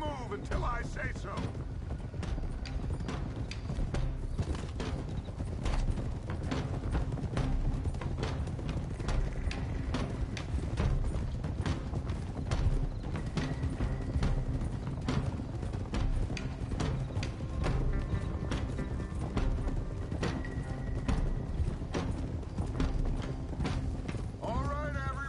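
Horses' hooves clop in a steady, rhythmic gallop during a ride in Red Dead Redemption 2, continuous for the whole stretch with occasional whinnies and voices in the background.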